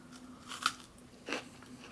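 Someone bites into freeze-dried peaches from a 1985 MRE, two crisp close crunches with quieter chewing crackles between them, faint and intimate, no talking.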